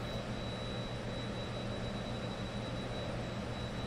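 An EMB 110 turboprop in X-Plane 11 taxis on a single propeller, giving a steady, dense engine drone with a thin high whine, continuous and unchanging throughout with no voices.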